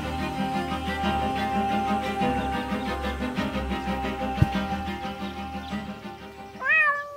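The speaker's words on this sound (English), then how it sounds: "my poor kitty climbed up the tree and she's afraid to come down." A cartoon cat in a Deponia video game cutscene lets out a short, rising meow near the end, heard over steady orchestral background music.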